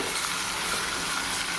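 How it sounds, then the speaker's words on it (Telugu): Andhra-style mutton masala curry sizzles and fries in a pan while being stirred, a steady close crackle with soft scraping and no talking. "ఒకసారి తిప్పుకుందాం"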